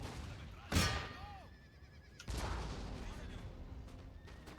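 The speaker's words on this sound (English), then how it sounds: "all of you are on canister shot and fire it well" Cannons fire canister shot in the strategy game Empire: Total War, giving two booming blasts a second or so apart with a lingering rumble, set under distant battle noise.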